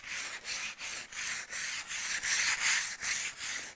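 Sandpaper rubs by hand over the edges of a piece of wood in about eight even back-and-forth strokes, a soft, close, rhythmic scratching with no voices.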